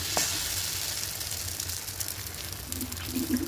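Bread slices fry in a pan with very little oil, giving a steady soft sizzle and hiss throughout at moderate volume.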